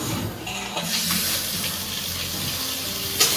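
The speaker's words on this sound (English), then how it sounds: "we're turning on the water." Water gushes steadily from a newly installed faucet in a home repair, a loud, close, continuous rush of flow with a brief sharper spurt near the end.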